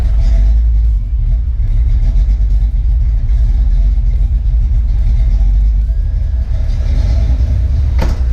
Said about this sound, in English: Don't worry about the surging. The surging is because the idle air control is not hooked up.